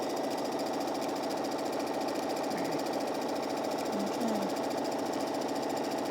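Sewing machine running steadily while stitching a quarter-inch quilt seam through two layers of fabric, a continuous close mechanical whir with a faint rapid needle chatter and no talk.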